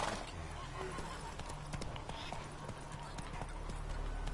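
Hooves of Roach, the horse in The Witcher 3: Wild Hunt, clip-clop in a steady, continuous trotting rhythm, close and fairly even in loudness, over a layer of game ambience.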